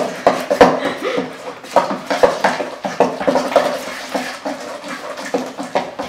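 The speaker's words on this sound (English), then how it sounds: "And now we're going to stir it." Flour being stirred into a homemade slime mixture in a bowl, making a steady run of wet, squelchy scraping strokes with occasional knocks of the utensil against the container, close and fairly loud.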